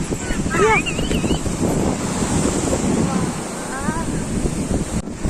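Loud, steady rush of a flooded river near Mundali bridge in Odisha roars continuously with wind buffeting the microphone, while a few faint voices or whistles rise briefly over the torrent.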